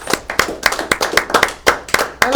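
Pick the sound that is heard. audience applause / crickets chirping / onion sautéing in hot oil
audience applause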